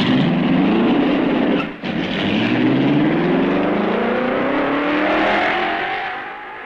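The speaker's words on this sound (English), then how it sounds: "The road is clear, and Eugenio Castellotti starts the wheels rolling." A 1955 Grand Prix race car pulls away on a road circuit in wet weather, its engine note climbing steadily in pitch as it accelerates off and fades slightly into the distance, with no voices over it.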